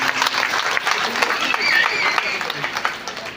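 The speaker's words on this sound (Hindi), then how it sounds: "एक जोरदार ताली आपके दीपक के लिए।" Loud, steady applause from a crowd gathered for a Shrimad Bhagavat Katha religious discourse in Patna, sustained clapping filling the whole moment with a voice briefly over it.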